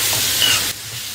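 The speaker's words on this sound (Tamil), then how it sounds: "இப்போ நம்ம கேரட் வந்து நெய்யிலே போட்டுக்கலாம். கேரட் நல்லா வதங்கணும்," Grated carrot sautéing in ghee in a pan for carrot ladoo, a steady hiss and sizzle that drops to a quieter simmer partway through, no talking.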